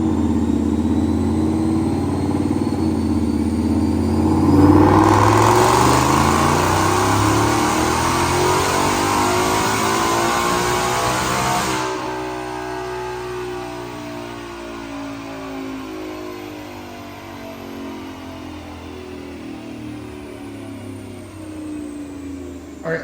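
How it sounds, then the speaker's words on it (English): Supercharged 2019 Ford Mustang with Coyote V8, Whipple Stage 2 kit and automatic, on a dyno pull: a loud engine climbs steadily through the revs for several seconds, then drops back to a lower, rumbling idle. "Check out this dyno pull."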